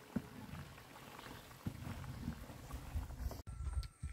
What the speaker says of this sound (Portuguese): E a Leila tá aqui fritando o torresmo.